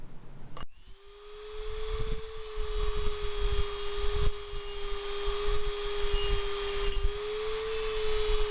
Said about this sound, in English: the Dremel's making it super easy to get it cleaned